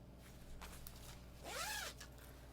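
A navy zipper on a fabric bag with navy handles is pulled once in a short, close rasping zip, with soft handling rustle before it.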